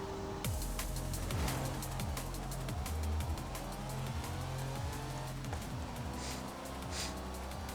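Engine roar from a 1939 drag car racing in Forza Horizon 5, loud and continuous with repeated rising revs and gear shifts and occasional tire squeal, no talk.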